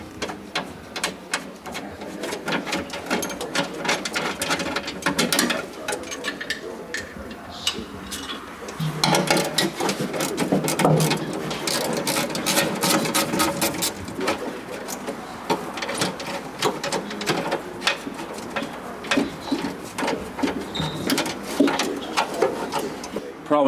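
A hand ratchet loosens bolts on a Rolls-Royce Silver Cloud III, giving a long run of quick, close, dry clicks that come in uneven bursts, with small metallic clinks mixed in.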